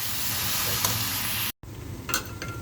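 Meat sautéing in oil in a pan for dinuguan, an Ilocano pork blood stew, gives a steady close sizzle with stirring scrapes. A brief break in the middle is followed by quieter sizzling.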